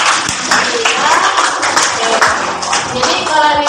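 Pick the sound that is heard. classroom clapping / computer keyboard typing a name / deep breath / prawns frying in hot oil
classroom clapping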